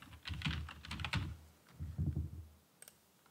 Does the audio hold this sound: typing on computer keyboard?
yes